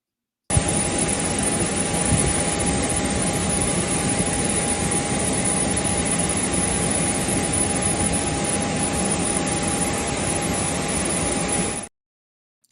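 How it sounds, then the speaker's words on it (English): A Nigerian presidential jet's engine roars in a steady, loud, unbroken wash with a constant tonal whine running through it, then cuts off abruptly near the end. "you see that presidential jet you saw on your screen there"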